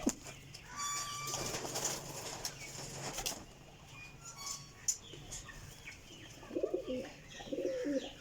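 Pigeons cooing while shut in a closed room, soft repeated coos with scattered chirps and brief wing flutters, fairly close, no talk over them.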